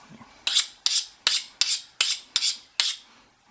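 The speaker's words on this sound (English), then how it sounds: "it's a good fast way to sharpen your hunting knife" A hunting knife is drawn along a lightweight plastic sharpening steel in seven quick, evenly spaced rasping strokes, each a bright scrape that starts sharply and fades. The strokes are close and clear, with no talking.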